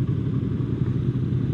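A Yamaha MT25 motorcycle engine drones steadily and loudly while riding at speed, with a dense low rumble and wind noise and no talk.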